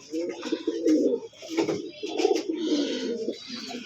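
Pigeons kept for sale coo in soft, throaty rolling phrases, several birds close by overlapping almost continuously with a few brief pauses.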